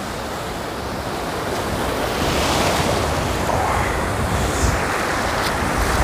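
Sea waves wash steadily around a wader standing in the water off an Anapa beach, a continuous broadband roar swelling slightly midway, mixed with buffeting wind on the microphone, with no voices.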